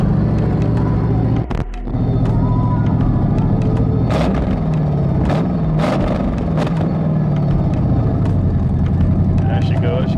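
A Ford 5.0 V8 swapped into a project car idles with a loud, low, steady rumble that settles down, close up, with someone talking over it.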